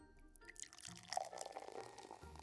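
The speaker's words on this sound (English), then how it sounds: "Let's add some water." Water is poured from a container into a potted houseplant during repotting, a faint soft trickle and splash with a few drips, close and quiet.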